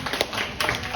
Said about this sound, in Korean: 아, 네, 맞습니다. 박수.